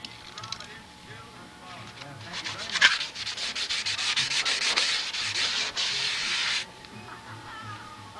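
Sandpaper rubs quickly back and forth along a wooden edge by hand, making a steady, close scratchy hiss for several seconds before it stops, with talking at the start.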